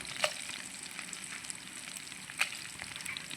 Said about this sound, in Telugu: ఇప్పుడు ఎండుమిర్చి వేద్దాం